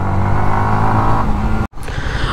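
A 2022 Yamaha MT-15 V2.0 motorcycle engine drones loudly and steadily at high revs, cuts out for a split second near the end, then picks straight back up.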